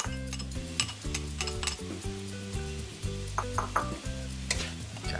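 Cauliflower sisig sizzles in sauce while a spoon stirs it and clinks against the pan, heard close and moderately quiet. A steady low tonal background music bed runs underneath, and nobody speaks.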